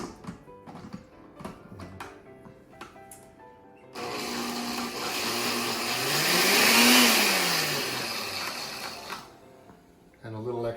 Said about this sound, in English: I'm just trying to clean out the blender